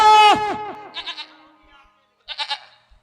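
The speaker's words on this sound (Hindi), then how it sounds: "देखो बकरी के घिचने घिचने जा रहा है" A goat bleats loudly while being dragged along, first a long wavering cry, then two shorter, fainter bleats after a pause, heard close and alone.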